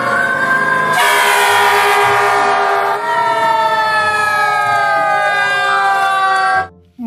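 A toy fire engine's electronic siren wails continuously and loudly, its tones sweeping and wavering up close, with no talking, before cutting off abruptly at the end.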